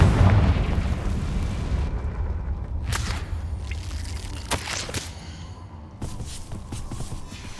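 A Confringo spell blasts off in Hogwarts Legacy, loud and booming at the start, followed by a couple of sharp bursts and crackling impacts over a dense rumbling game background with no talking.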